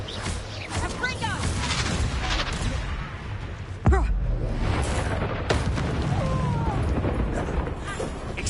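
A Confringo blasting spell bursts in Hogwarts Legacy, a loud boom near the four-second mark within a busy spell-combat mix, with a second sharp burst shortly after and steady crackling effects throughout.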